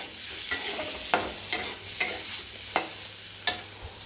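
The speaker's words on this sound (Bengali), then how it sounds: "আলু দিয়ে ডিমের ঝোলটা হচ্ছে" Egg and potato curry cooks in a wok under a steady sizzle, while a spoon scrapes the pan in regular strokes about every half second.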